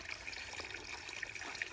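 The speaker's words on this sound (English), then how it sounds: "I'll squeeze this, run it through the Sawyer filter, and then have clean water in the bottle" Water trickles steadily and faintly as it is squeezed through a Sawyer filter into a bottle on a trail in the Smoky Mountains, a soft continuous stream with no voices.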